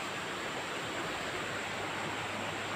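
A flowing creek rushes steadily and evenly, a continuous broadband wash of water with no pauses and no voices.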